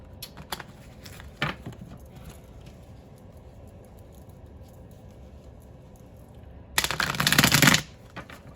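Tarot cards being shuffled close up: a few light flicks early on, then a loud, rapid riffle lasting about a second near the end.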